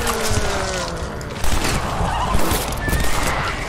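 A horse neighs loudly in the zombie western game Undead Redemption, a close whinny ringing over gritty in-game noise with thuds and rumbling, no talking.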